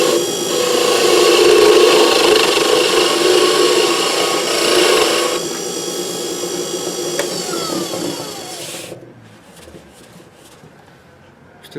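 Skew chisel shaving wood on a spinning lathe, a steady broadband rasping hiss that holds for about nine seconds at close range, then cuts out, leaving a quiet hum.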